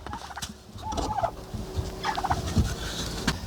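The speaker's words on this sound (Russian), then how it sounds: "Пускай индюки гуляют." Turkeys gobble in repeated bursts, several birds calling at moderate distance with rapid warbling calls and soft background noise.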